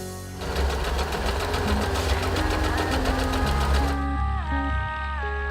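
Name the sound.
Usha Wonder Stitch sewing machine running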